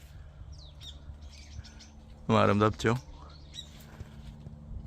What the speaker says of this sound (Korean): 지금도 새소리가 엄청 나고 있습니다.